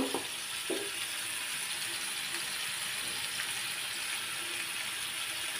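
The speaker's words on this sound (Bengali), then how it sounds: "এখন আমি এই সব মশলা একসাথে ভালো মতো একটু কষিয়ে নেব।" Spices sautéing together in a pan for a beef tripe curry, a steady broad hiss of oil with a couple of light utensil knocks early on, moderately close and even, no talking.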